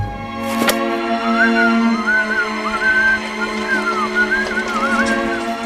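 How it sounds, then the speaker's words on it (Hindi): A person whistles a wavering, repeated tune at close range, the notes rising and falling in short phrases after a sharp knock near the start, with a steady hum underneath. "एग्जाम के टेंशन में सारे लड़के पढ़ाई कर रहे हैं और तू सीटी बजा रहा है"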